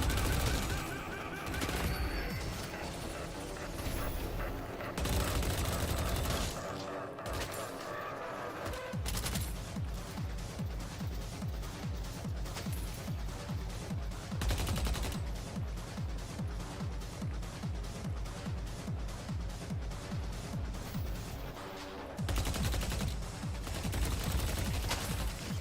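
Rapid automatic gunfire from the video game Deadlock rattles in long, dense bursts, loud and close, with short pauses between volleys and a steady pulsing rhythm through most of the stretch.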